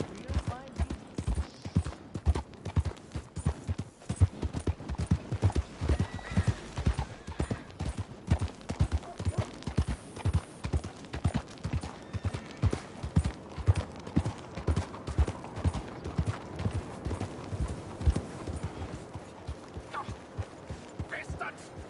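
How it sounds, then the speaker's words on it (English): Horse hooves clip-clop steadily in Red Dead Redemption 2, a rhythmic trot of evenly spaced thuds continuing for the whole stretch, close and moderately loud, with occasional voices under the hoofbeats. "You ought to take care of that horse there."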